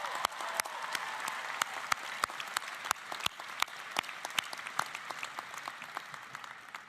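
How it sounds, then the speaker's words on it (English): Commencement audience at Tulane University applauds steadily, a dense, even wash of many hands clapping with sharp individual claps standing out, moderately distant and sustained throughout. "Let's give them a round of applause."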